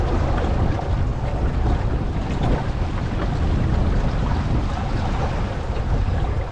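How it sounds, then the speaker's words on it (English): Steady broadband wind roaring across the microphone on a sailboat reaching, swelling in gusts with rushing water beneath, loud and continuous with no talking. "There's gusts coming now."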